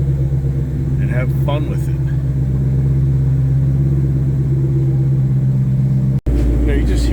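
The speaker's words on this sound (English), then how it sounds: "you just hear that exhaust. I think Ford just does such a great job with the factory exhaust" A Ford Shelby GT500 with its factory exhaust rumbles steadily and deeply from inside the car, a continuous low drone beneath someone talking, with a brief dropout near the end.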